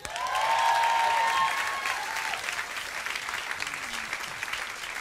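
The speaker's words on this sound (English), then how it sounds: "Big round of applause for Jamie." An audience at a live BBC Radio 2 concert applauds, with loud close clapping that peaks early and then tapers into a thinner, steady patter over several seconds.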